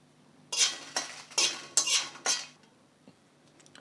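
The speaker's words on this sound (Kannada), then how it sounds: "ಈಗ ಅದೇ ಬಾಣಲೆಗೆ ಒಂದು ಐದು ಒಣಮೆಣಸಿನ್ಕಾಯಿ ಒಂದು ಆರು ಬ್ಯಾಡಿಗೆ ಮೆಣಸಿನ್ಕಾಯಿ ಹಾಕ್ಕೊಂಡು ಬಿಸಿ ಮಾಡ್ಕೋತೀನಿ" Metal utensil scraping and stirring dry red chillies heating in a pan, five sharp rhythmic strokes about half a second apart, close and fairly loud, then quieter faint clinks.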